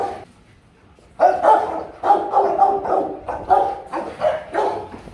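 Several Rottweilers bark again and again at close range, loud and overlapping in a steady run of deep barks, after a quiet start.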